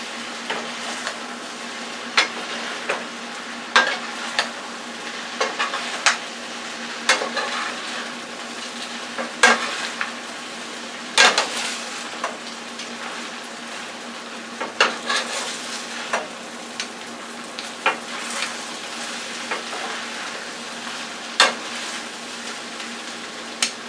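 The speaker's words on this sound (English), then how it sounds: "let's do a little more garlic. That'll bring it up. Let's mix that in." Pork bean fried rice with garlic stir-fried in a hot pan, a steady sizzle broken by repeated scraping and clanking strokes of a spatula against metal, close and fairly loud with no talking.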